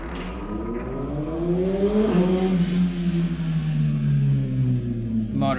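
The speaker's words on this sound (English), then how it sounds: "Motorcycles." A motorcycle engine revs steadily, its pitch climbing and then sliding lower in a sustained, fairly close drone, with a rhythmic low pulse beneath.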